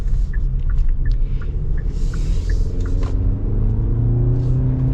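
A 2023 Hyundai Santa Fe XRT on the move, with a loud, steady low engine and road rumble from inside the cabin and small clicks and rattles over it.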